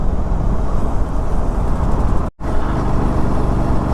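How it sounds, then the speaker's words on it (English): Loud, dense road traffic just past the exit from a city ring road, a continuous roar of nearby vehicles with one brief dropout midway. "As soon as I exit the ring road, I am stuck in traffic."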